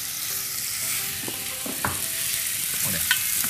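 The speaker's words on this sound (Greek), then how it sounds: "τσιγαρίζει τον κιμά" Minced meat frying in a pan for a rigatoni pastitsio gives a continuous sizzle close by, broken by occasional scraping stirs of the utensil.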